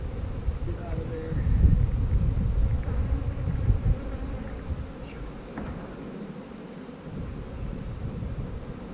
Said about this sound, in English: Bees down into the hive.